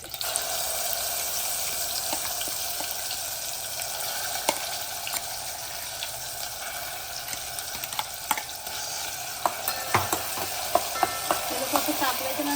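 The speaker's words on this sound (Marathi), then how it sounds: "आणि मग आता याच्यामध्ये मी टाकणार आहे हा आपला वाटाणा" Peas frying in hot oil with garlic in a pan give a steady, loud sizzle with scattered crackles and pops, continuous throughout at close range.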